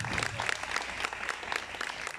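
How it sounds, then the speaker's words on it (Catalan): An outdoor political rally audience at a Catalan gathering breaks into loud, dense applause, a close wash of clapping throughout. "L'aplaudiment és per vosaltres."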